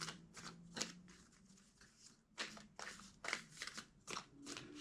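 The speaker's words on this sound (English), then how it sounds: "Two more shuffles." A deck of cards is shuffled in several quick riffling bursts, close and soft, with short pauses between them and no talking.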